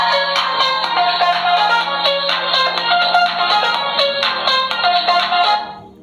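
A loud melodic startup jingle plays from the loudspeaker of an AgeTel AG18 Pro budget feature phone. It runs steadily for about five seconds and then fades out, with no talking.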